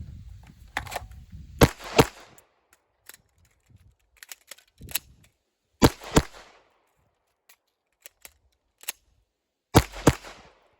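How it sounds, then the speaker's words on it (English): Rapid pistol shots fired at a target about 5 to 7 yards away, loud sharp cracks in quick pairs and bursts separated by pauses and faint clicks of magazine reloads. "I'm going to take fast shots and then just reload as quickly as I can without messing up my shots."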